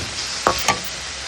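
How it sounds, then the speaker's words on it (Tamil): Steady broadband hiss of onions sautéing in oil in a pan, with two brief clinks of a utensil stirring partway through. "சோம்பு போட்டுட்டு நாம் நறுக்கி வச்ச வெங்காயத்தை போட்டு நல்லா வதக்கலாம்."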